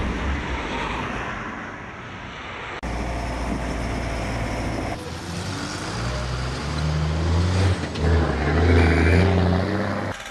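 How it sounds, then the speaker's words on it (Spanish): Heavy street traffic in Mexico City, a loud continuous roar of engines and passing vehicles with rising rumble and a few abrupt shifts in the mix, no voices. "Así suena el Distrito Federal, una ciudad en donde el tráfico, el estrés, las prisas y el concreto perforado están a la orden del día"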